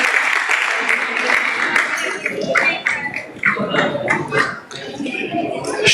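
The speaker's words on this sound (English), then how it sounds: "warm round of applause." Audience applause at a Janmashtami celebration at ISKCON Naperville, a loud, dense crowd clapping that runs through the whole stretch with some voices mixed in.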